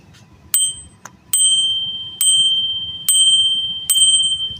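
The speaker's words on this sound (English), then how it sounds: "That's the notification bell." A bright bicycle bell rings five times in a row, each crisp ding ringing out and fading before the next, loud and close with nothing else over it.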